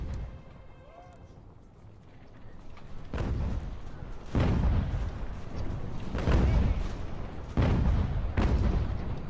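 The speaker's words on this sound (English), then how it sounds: "Our mortars are doing a wonderful job. They're highly inaccurate." Mortar artillery fire in the strategy video game Ultimate General: American Revolution: four heavy, rumbling booms land at uneven intervals of a second or two, each trailing off over a steady battlefield bed of noise.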